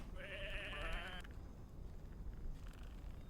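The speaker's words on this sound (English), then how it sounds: "Come on, these are just sheep." Sheep bleat in the video game Whateverland: one long, wavering bleat up close, then a shorter, fainter bleat a moment later over a low background hum.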